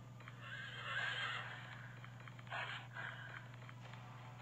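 A horse in a video game whinnies loudly and shrilly, followed by a second shorter neigh and faint hoof clops, heard alone over a steady low electrical hum.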